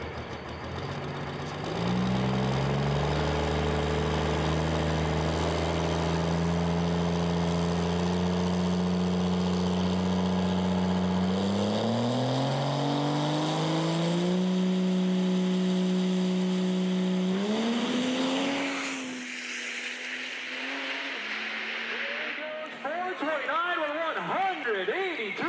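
A Cummins-powered pulling truck's diesel engine drones loud and close as it rolls forward, pitch climbing in steps before dropping away into rumble, with a commentator talking over it.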